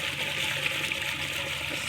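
Water gushing steadily out of a flushed drip irrigation pipe in a drumstick tree plantation, a continuous close hiss and splash without pauses.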